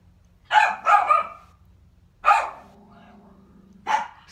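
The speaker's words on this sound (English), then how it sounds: "So instead of having music in the background, we'll have the dogs barking." Dogs barking indoors as background sound: a quick pair of barks, a single bark, then one more bark after a pause. They are loud and close, with a low hum beneath.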